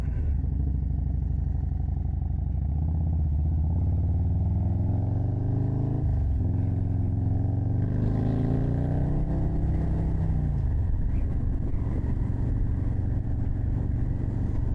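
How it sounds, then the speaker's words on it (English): A motorcycle engine runs steadily while riding, its exhaust note rising in pitch through acceleration, dropping briefly at a shift, then climbing again before easing off. "Got to get used to that exhaust tone to know when I gotta shift a little bit better"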